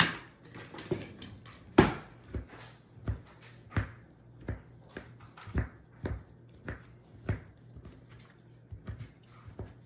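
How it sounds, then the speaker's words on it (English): A knife roughly chops turkey pepperoni on a cutting board with a steady run of about fifteen crisp, knocking strikes, close up and fairly quiet. "I'm gonna chop some turkey pepperoni, roughly chop it."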